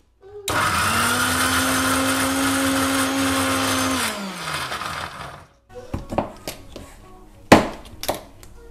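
A mixer grinder whirs loudly for a few seconds grinding onions and coriander into paste, then winds down, followed by clattering knocks and scraping of the jar.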